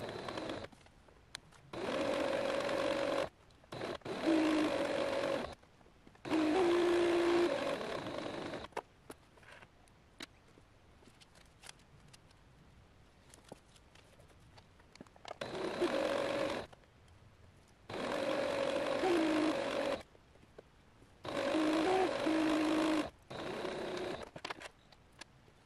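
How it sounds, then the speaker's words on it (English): A sewing machine stitches skirt pieces in bursts of steady whirring, about six runs separated by quiet pauses, close and moderately loud with no talk. "I just finished sewing up pieces 6 and 7, the front part of the skirt."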